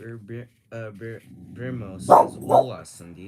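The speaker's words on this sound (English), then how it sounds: "Sorry about the barking" A dog barks in short, repeated bursts, several sharp woofs close by, while a person talks over and between the barks.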